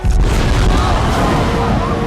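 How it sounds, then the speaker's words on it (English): A hot air balloon blowing up after being struck by a fireball in a fantasy film, heard as a loud, sustained booming roar with rumbling low end that fills the whole moment and does not fade. "she shoots a fireball at the balloon, and it blows up"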